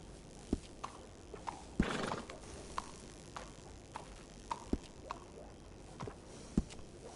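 A horse in the video game Red Dead Redemption 2 clip-clops with sharp, spaced hoof strikes and gives a short whinny early on, moderately close and with no talk over it.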